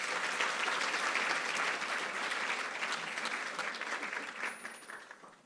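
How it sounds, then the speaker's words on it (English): Sustained applause fills an opening ceremony hall after a speech by a university vice chancellor, loud and steady at first, then thinning and fading out near the end. "Can we give her another big round of applause?"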